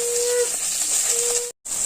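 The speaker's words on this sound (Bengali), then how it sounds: "বন্ধুরা, এবারে মৌটি মাছগুলো সব ভেজে নেব।" Small mourala fish frying in hot oil, a steady loud hiss and sizzle close by with a faint tonal whine, cutting out briefly near the end.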